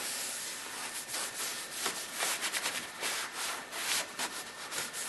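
A pitted rubber surface, such as a car's rear spoiler, is wiped clean with soft, faint rubbing and swishing strokes in an uneven rhythm over a quiet hiss.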